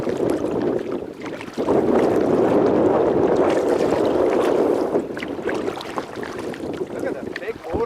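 A motorboat engine drones loudly and steadily on a river, with a strong wash of wind and water noise that swells for several seconds before easing back.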